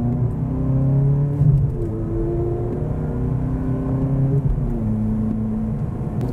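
Ferrari engine droning steadily from inside the cabin while driving, with gear changes marked by shifting pitch steps and slight jolts in the low rumble, no talk.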